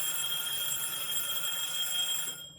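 A kitchen oven timer beeps steadily and loudly with piercing electronic tones for over two seconds, cutting off abruptly near the end while cookies are being baked.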